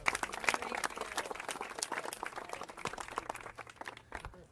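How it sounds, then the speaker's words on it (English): Scattered applause from a modest group of community members at an outdoor press conference about Los Angeles River restoration funding, fairly faint, uneven clapping with distinct individual claps. "let's give a round of applause to all the community people that are here today"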